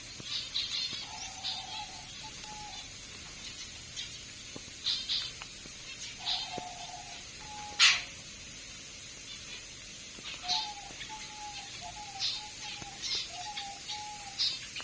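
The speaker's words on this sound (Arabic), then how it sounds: "هاي الدرة شوفوها يا حبايب." Rose-ringed parakeets kept in an aviary give short, repeated calls in scattered bursts, with one sharper louder call midway, over a quiet background.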